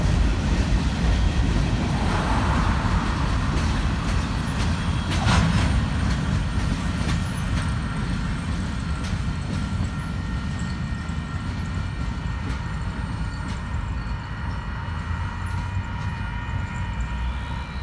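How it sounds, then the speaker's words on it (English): A Union Pacific eastbound freight train passing through Orange, a long, steady rolling roar of wheels on rail with a brief louder burst near the start, continuous and moderately close throughout. "I shot a UP eastbound passing through Orange with train AEG GN 23."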